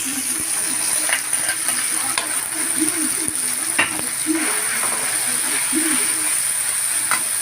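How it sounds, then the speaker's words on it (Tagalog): Miso powder for sinigang sautéed in a pan, a steady close sizzle with scraping stir strokes recurring throughout, loud and continuous. "Maganda kasi nagigisa-gisa rin ng miso powder"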